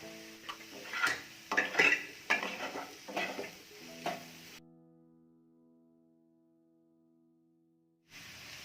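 Mushroom puttu mixture is tossed with salt in a bowl, giving a burst of soft scraping and clinking stirs for about four seconds before a near-silent pause and a faint return of noise.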